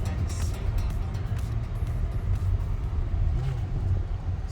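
Low, steady road rumble and engine hum inside a moving Mazda CX-50, a left-hand-drive SUV, with faint cabin noise and a few soft knocks, and no clear speech.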